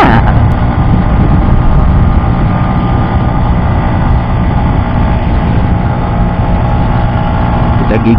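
Yamaha MX motorcycle engine pulling in fourth gear at about 80 km/h up a long, steep hill near Lembang, a steady loud drone with heavy wind rush throughout.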